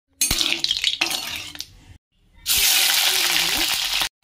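Bay leaf sizzling in hot rice bran oil in a kadai, a loud close frying hiss that starts in two bursts with a brief pause, then swells into a steady sizzle, with faint utensil clatter.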